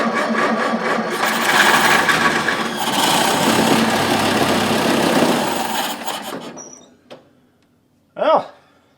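A 1931 Plymouth engine that hadn't run in years firing up, a loud, rough, rapidly pulsing run that fades and stumbles out after several seconds, followed by a brief knock and a short voice.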